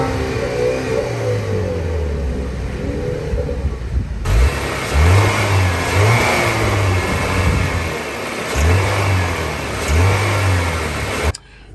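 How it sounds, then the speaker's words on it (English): A 2023 Chevrolet Camaro engine idles, then revs repeatedly in loud bursts that rise and fall, up close and without talk. "How about we give it some revs and show you what it sounds like."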